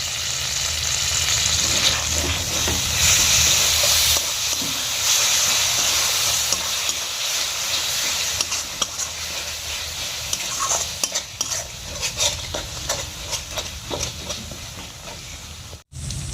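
Spice paste with tomato paste and salt sizzles in oil in a pan while a spoon stirs and scrapes it, a continuous close frying hiss with scraping sounds and no talk.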